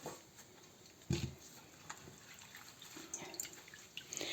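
Water splashes and drips as orache greens are swished and lifted out of a pot of water, with soft sloshing and occasional louder splashes.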